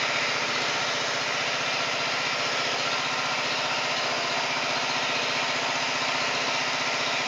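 A Robin engine powering a water pressure washer runs steadily throughout, a close, loud, continuous high-revving hum with a buzzing mechanical rattle and no pauses.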